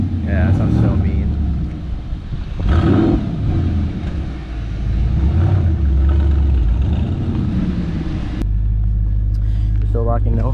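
Turbocharged N54 BMW 335i with a big turbo, its engine rumbling and revving loudly and steadily throughout, settling into a deeper idle drone near the end.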